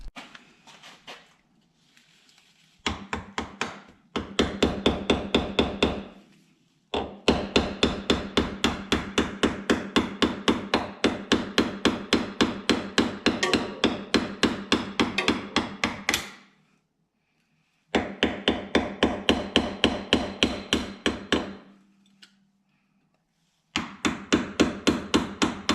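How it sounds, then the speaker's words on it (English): A screwdriver taps out a pinion seal on a Jeep in long bursts of rapid, sharp metallic blows. The near, loud strikes come in fast, even rhythm, broken by brief pauses. "You can wedge your screwdriver in there and just start tapping it around, and it'll work that seal right out"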